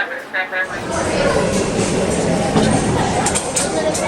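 Rumbling ride aboard a northbound A train on the New York subway, a steady low roar of wheels and car noise with a voice talking over it throughout.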